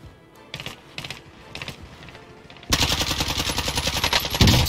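Video game gunfire while shooting an enemy player: a few scattered shots first, then a loud, rapid automatic burst of rhythmic fire up close.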